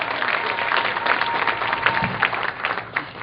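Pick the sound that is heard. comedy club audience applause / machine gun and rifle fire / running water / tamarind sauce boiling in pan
comedy club audience applause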